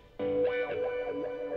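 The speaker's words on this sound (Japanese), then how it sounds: "次はですね、エレキギターでございます。" Electric guitar playing a sustained chord with distortion and effects, loud and alone, with bright ringing harmonics as part of a rock song production.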